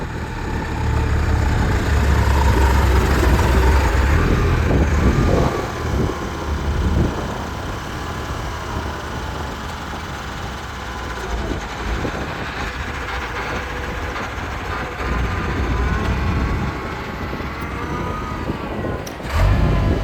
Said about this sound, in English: why I'm using the small front end loader and not the bigger Chamberlain loader